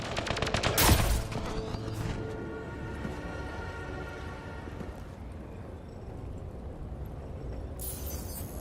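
Gunshot in the video game Mass Effect Andromeda: a sharp, loud blast near the start, followed by a lingering ringing tail and steady ambient background hum, with no talking.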